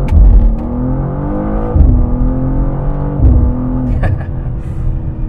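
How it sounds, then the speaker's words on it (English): A BMW M car with the S58 straight-six and ZF eight-speed launching hard from first gear, a loud close rising engine roar with quick upshifts that drop the pitch before it climbs again. "let's maybe just do a little launch here from first gear so you can see kind of just how aggressive this thing is off the line"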